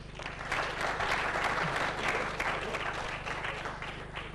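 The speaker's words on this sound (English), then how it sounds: "Round of applause for him." An audience at a startup awards event gives a lively round of applause, continuous crowded clapping that holds steady at full strength throughout.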